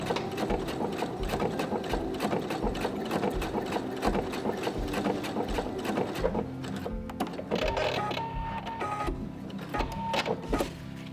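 A computerized Pfaff sewing machine stitching a hem on denim jeans, a rapid steady mechanical chatter of the needle running continuously, with brief pauses and speed changes toward the end, close and alone.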